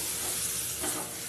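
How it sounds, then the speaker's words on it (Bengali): Arum, elephant foot yam and prawn curry sizzles in a pan while a little water is added and the mix is stirred, a steady close hiss with a brief scrape partway through, fairly quiet, with no talking. "এর মধ্যে একটু একটু জল দিয়ে নেব আর ভালো করে কষিয়ে নেব।"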